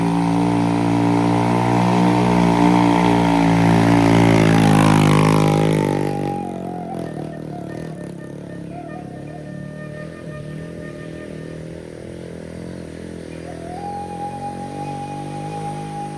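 A motorcycle engine revs hard as the bike climbs a steep wooden ramp on a rural road between Pesisir Selatan and Solok, loud and strained at first, then easing to a lower, steadier drone.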